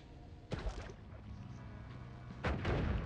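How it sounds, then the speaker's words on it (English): A bomb goes off in the video game Noita: two booming blasts land about two seconds apart, each a broad burst with a rumbling tail, over a steady low background. "Let's throw a bomb and get in here."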